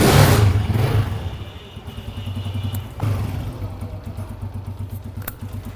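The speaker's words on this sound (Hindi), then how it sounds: "अभी इसकी किक लगा के इंजन का साउंड जो है वो चेक करते हैं।" Honda CG 125 motorcycle engine kicked into life after a push rod replacement and tappet adjustment, then settling into a steady, close idle with a ticking, clattery mechanical beat throughout.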